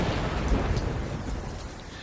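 Heavy rain pours down over open countryside, a steady dense roar of falling water with deep low rumbles of thunder rolling underneath, loud and continuous without a break.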